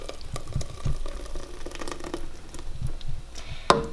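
Thick, creamy corn chowder poured from a blender back into a cooking pot: a steady, close liquid splatter and patter, with a sharp clink of the container against the rim near the end.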